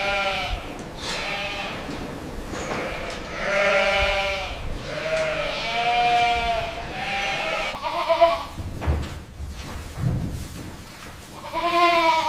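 Goats bleat on a commercial goat farm, a series of long, wavering, nasal calls from several animals, some close and loud, overlapping one another with brief pauses between.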